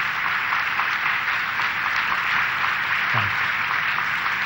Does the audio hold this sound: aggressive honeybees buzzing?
no